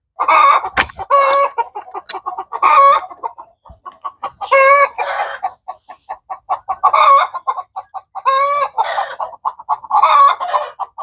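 Hens clucking repeatedly in a loose rhythm, close and loud with short bursts and pauses, in a backyard flock foraging for worms in the soil; no talking.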